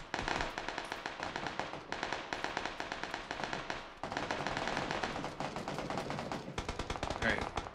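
Rapid bursts of gunfire from a shooter video game on a desert map, loud sharp cracks in quick volleys with brief pauses, a voice talking faintly underneath.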